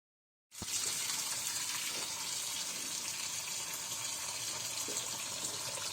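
A kitchen tap suddenly starts and runs in a steady, loud gush while baby potatoes are washed for a garlic-butter recipe, continuing unbroken without voices.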